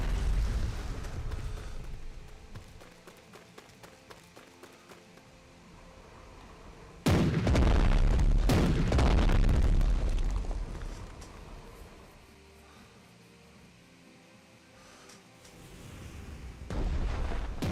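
Naval combat in the strategy game Strategic Mind: The Pacific, with ships coming under fire: repeated muffled gun blasts and explosions, a heavy rumbling surge partway through, then more bursts of firing.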